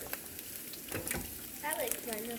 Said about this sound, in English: Oh, I love that sound. There's a saying, a slang saying, that's what's popping. Yeah, what's popping is bacon right now.